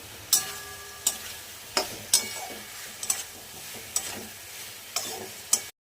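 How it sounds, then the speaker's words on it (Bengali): Previously fried potatoes are sautéed in oil in a pan: a quiet background sizzle punctuated by about eight sharp spatula knocks and scrapes against the metal at irregular intervals, heard close with no voices. "এই দেখো ভেজে রাখা আলুগুলো এটার মধ্যে দিয়ে আমি কষিয়ে নেব"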